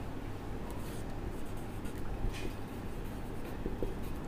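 A teacher writes on a board during a chemistry lesson: faint, steady scratchy strokes against a noisy low rumble, with no talking.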